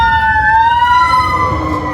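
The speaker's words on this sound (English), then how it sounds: "fire engine is passing, so I had to pull over." A fire engine's wailing siren passes close by on the road, loud and continuous with a rising and falling pitch over a low rumble of traffic, heard while a driver has pulled over to let it go by.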